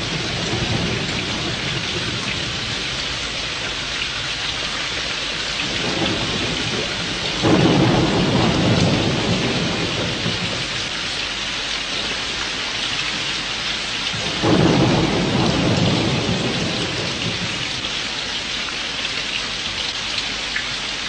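Heavy rain pours steadily during a thunderstorm, with two loud rolling thunder rumbles breaking through the constant downpour, one about a third of the way in and one past the midpoint.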